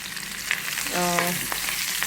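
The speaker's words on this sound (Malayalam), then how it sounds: "ചിക്കൻ പീസുകൾ ഒന്ന് ഫ്രൈ ചെയ്ത് എടുക്കാം" Chicken pieces frying in butter and oil, a loud close sizzle throughout with a brief stirring clatter and a short tonal hum in the middle.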